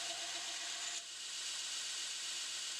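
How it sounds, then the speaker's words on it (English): Knife blade bevel being ground on one side of a marked center line, a steady broadband abrasive hiss, loud and continuous, with a brief dip partway through. "what I'm doing is I'm grinding to one side of one of those lines"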